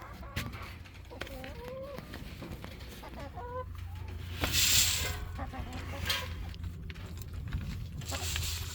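Barnyard mixed-breed chickens clucking around a farm coop, short clucks scattered through the clip under a person's voice and general yard noise, moderately close.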